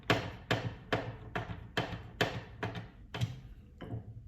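A star screwdriver turns a screw on a Kreepy Krauly Dominator Lite pool cleaner during a tune-up kit install, making nine sharp, evenly spaced knocks close up, about two per second.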